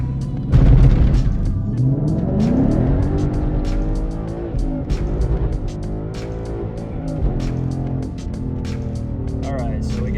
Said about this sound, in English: Spun all the way through first, all the way through second, fishtailed a little bit